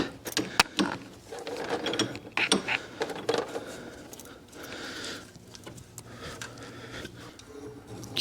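A wrench works loose a transmission cooler line on a car during a radiator replacement. Close, dry ratcheting clicks and metallic fiddling come in irregular bursts, with occasional clanks and creaks, and no talking.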